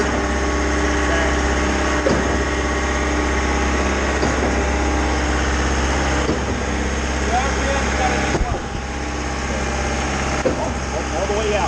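A Putzmeister TK40 concrete pump runs with a loud, steady mechanical drone and engine hum, close and continuous, while people talk over it.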